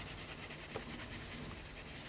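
Faint, close scratching of a Kalour colored pencil moving smoothly across paper in short strokes, quiet and without talk.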